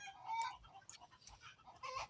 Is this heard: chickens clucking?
yes